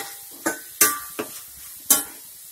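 Brinjal fries in coconut oil for vangi palya while a spoon stirs the pan, giving four sharp scraping clinks against the pan over a soft sizzle, close and with no talk.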